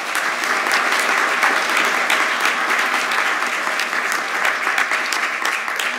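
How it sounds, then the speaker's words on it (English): An audience at an agricultural sustainability leadership award ceremony applauds the supporters, a loud, sustained roll of many hands clapping with no break. "please give a round of applause for all of those supporters"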